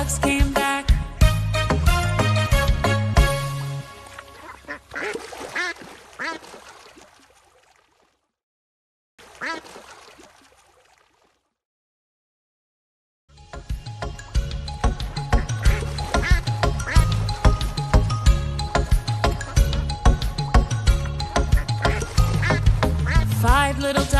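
Ducks quack in a lively, repeated rhythm over bouncy nursery-rhyme music, with a brief quiet gap midway before the quacking and music resume.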